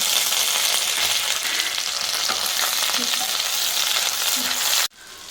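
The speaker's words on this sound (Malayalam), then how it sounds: "ബട്ടർ മെൽറ്റ് ആയിട്ടുണ്ട് നമുക്കിതിലേക്ക് ഒരു അരമുറി സ്പ്ലിറ്റ് ഓണിയൻ" Split onion frying in melted butter, a loud, dense, continuous sizzle and crackle heard up close that cuts off abruptly near the end, no voices.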